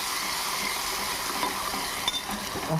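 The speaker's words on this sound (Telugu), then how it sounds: "పచ్చడి వేసేసుకున్నాం. అది కూడా ఎమ్మటే తిప్పేసుకున్నాం." Ridge gourd chutney sizzles steadily in a hot pan while a spoon stirs it, with soft scraping and occasional metallic clinks over the constant close frying hiss.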